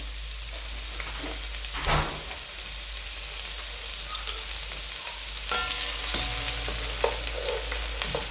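Onions and garlic fry in a pan for a potato and sausage casserole, a steady close sizzle broken by occasional scraping stirs and clanks of a utensil against the pan.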